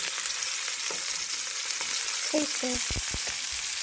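Food sizzles steadily in a frying pan as it browns until golden, a loud continuous hiss throughout with a brief word spoken over it near the end.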